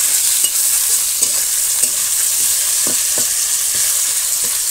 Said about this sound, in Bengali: আলু ভাজা দিয়ে দিয়েছি।